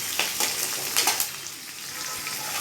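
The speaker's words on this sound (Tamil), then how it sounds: "கொஞ்சம் நல்லா வாசனை வர வரைக்கும் கிண்டி விடணும்" Prawn thokku masala fries in a pan as it is stirred, giving a close, crackling sizzle with rhythmic scraping strokes over a few seconds.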